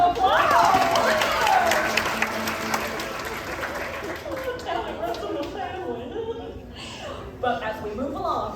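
Theatre audience applause at a stage show at the Bird Cage Theatre, Knott's Berry Farm, clapping strong at first then thinning out, with chuckles and voices mixed in.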